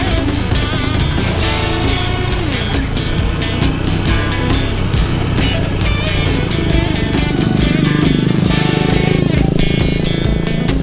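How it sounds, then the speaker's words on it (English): Honda XR150L motorcycle engine braking on a mountain descent, a loud, steady single-cylinder drone with rhythmic pulsing and wind noise, close and continuous throughout. "Do a little engine braking here."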